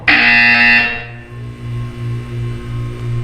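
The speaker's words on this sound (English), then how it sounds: "When you hear the buzzer, look down at the floor." A loud, harsh buzzer in the video game Portal 2 blares for about a second, then fades into a low, wavering electronic hum.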